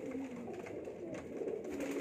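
Pigeons on a rooftop coo softly in low, murmuring calls, faint and continuous, with light background noise.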